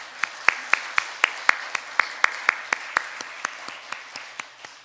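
Steady, evenly paced claps ring out from a church congregation during a Sunday service, a rhythmic round of applause that holds a regular beat throughout with no talking over it.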